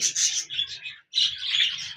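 Pet birds chirp in a farm, a pair with a female perched on a clay pot and a male on a stick, giving bright repeated close tweets in two bursts separated by a short pause.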